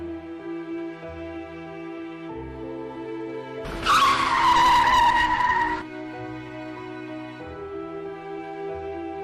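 A Safari car idles with a low droning engine, then its tires let out a loud, sharp screeching skid lasting about two seconds as it pulls away, before the engine settles back to a steady hum.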